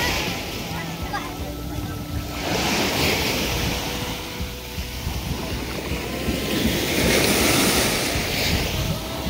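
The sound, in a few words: strong ocean waves at high tide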